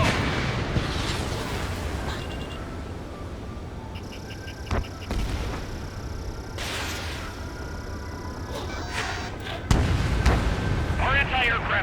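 Enemy gunfire and booming explosions pound a base in Ace Combat 7: heavy artillery-like blasts and bursts of shooting, loud and close, over a steady roaring background, with radio voices talking throughout.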